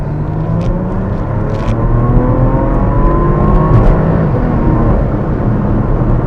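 A Porsche in sport mode accelerates, its engine a loud, sustained droning rumble with a rising whir, heard from inside the car with no talking.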